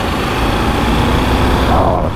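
A Suzuki V-Strom 800 DE motorcycle engine runs steadily close by, a continuous buzzing drone with a faint voice underneath, dropping off slightly at the very end.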